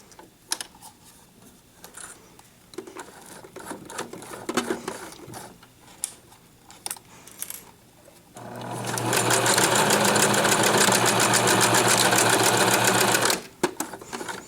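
A sewing machine stitching fabric mittens, first with slow, irregular clicks of the hand wheel turned by hand, then a fast, loud, continuous motor-driven stitching run of about five seconds that stops abruptly.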